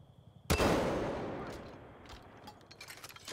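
A single loud gunshot blast in the video game Far Cry 5, with a long rolling echo decaying over a couple of seconds and faint background ambience.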